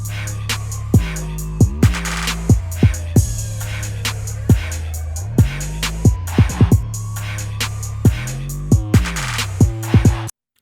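A distorted 808 bass run through Camel Crusher and a compressor plays a beat of punchy notes that glide and bend in pitch between hits, loud and upfront with crisp percussion layered over it, no voices.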